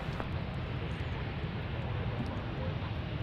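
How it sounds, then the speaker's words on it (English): American Airlines jet at DFW airport, a steady broadband engine roar filling the whole stretch as it takes off, with a faint voice murmuring underneath. "All right, B Park point left, clear for takeoff, American 678."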